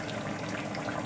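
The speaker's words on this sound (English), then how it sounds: "I have a ginger juice, which is a small bit of ginger pureed and added with water, and I'm going to add this in" Ginger juice, pureed ginger mixed with water, poured into a pot of lamb rogan josh: a short, steady watery splashing and sizzle-like hiss, close and continuous, with no talk.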